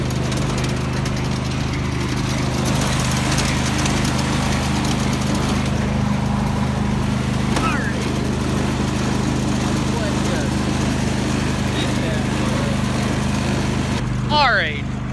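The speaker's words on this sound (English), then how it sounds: "let's talk about how to drive the Craftsman GT5000." A Craftsman GT5000 lawn tractor engine runs close by with a loud, steady droning hum that never lets up. A voice is heard faintly over the engine.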